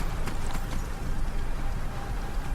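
Horse hooves clop rapidly in a gallop across the Skyrim game world, a busy continuous rhythm under dense background noise without speech.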